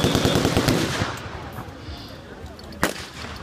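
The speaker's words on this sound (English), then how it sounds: "we've got some machine gun support from the 30 caliber on the left flank" Bursts of .30 caliber machine gun fire at an armed forces re-enactment battle, rapid cracking shots at first, then thinning out with one loud isolated report near the end, in an open outdoor setting.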